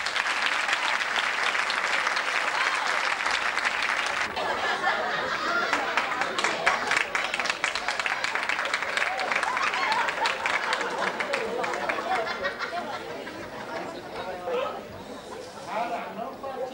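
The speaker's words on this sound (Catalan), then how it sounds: "Un fort aplaudiment per a ells" An audience at a theatre night gives strong applause, dense continuous clapping that stays loud throughout and thins slightly toward the end, with some crowd chatter mixed in.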